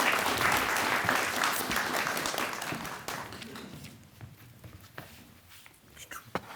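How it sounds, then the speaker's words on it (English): A poetry café audience applauds as a poet walks up, loud clapping at first that gradually thins and fades, with a few scattered claps and footsteps near the end. "Let's all give him a big round of applause as he approaches."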